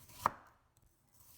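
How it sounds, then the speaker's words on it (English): A knife chops a purple onion into small pieces on a board, one crisp close cut standing out, then near silence. "Then cut a purple onion into small pieces."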